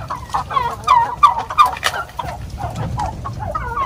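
Native chickens in a rural provincial yard in Sarangani cluck repeatedly in short, uneven bursts, several birds close by with a low background rumble.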